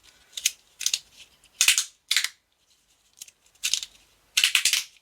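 A fidget slider with stainless steel pro plates on a 3D-printed body clicks sharply in short bursts of several snaps. The bursts are separated by brief pauses, close up and fairly quiet, with no talking.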